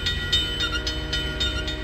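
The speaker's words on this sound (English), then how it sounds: "Oh man, just barely missed that train." A train passing in the video game Farming Simulator 19, a steady rumble of cars rolling by with a repeated horn blaring in short bursts, close and loud, without talk.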